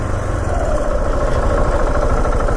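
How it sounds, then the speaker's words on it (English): A 2016 KTM 690 Enduro R single-cylinder motorcycle idles close by, a loud, steady, lawnmower-like chugging that keeps going without pause. "Hear that idle? It sounds like a fucking lawnmower."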